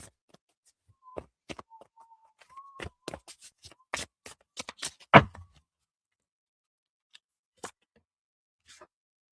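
Trust Your Vibes oracle cards being handled and shuffled during a tarot reading, with sparse close crisp flicks and taps spread over near-silence and one louder slap.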